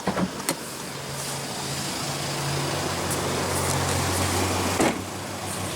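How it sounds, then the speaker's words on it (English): The power driver's side window of a 2015 Audi A3 with a 1.8 L turbo four-cylinder runs in one steady electric motor whine lasting several seconds, ending in a soft thump, close up with no talk. "Power driver's side window."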